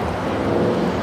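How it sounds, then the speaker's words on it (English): A Boeing 787-9 Dreamliner airliner bound for Mexico City at LAX, heard as a steady, fairly loud broadband engine roar with no break and no voices. "The Dreamliner 787-9 Dreamliner heading to Mexico City."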